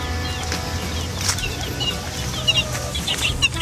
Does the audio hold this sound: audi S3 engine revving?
no